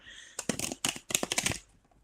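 A deck of playing cards being shuffled at a close-up after-party table, several quick riffling bursts in a row.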